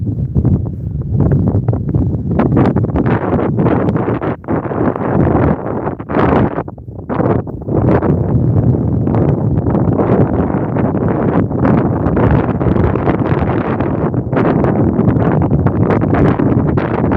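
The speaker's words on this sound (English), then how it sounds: "As you can tell, it's windy out here." Strong wind blows across open water at the end of a fishing dock, buffeting the microphone with loud, continuous low rumbling gusts that briefly ease near the middle before surging again.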